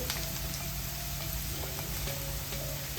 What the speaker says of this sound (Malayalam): ഇതൊന്ന് വഴന്ന് വരട്ടെ. നമ്മൾ ആ സവാള 1 മിനിറ്റ് ഒന്ന് വഴന്നതേ ഉള്ളേ